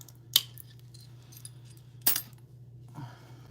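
Two sharp metallic snips cut a small extra nib off a metal heart, one early and one about two seconds later, with a softer click near the end, over a steady low hum and no talk.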